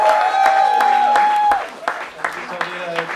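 Crowd applause at a music festival in Rotterdam rises for a performer, steady clapping alongside a sustained musical tone, then thins into scattered claps and a few voices.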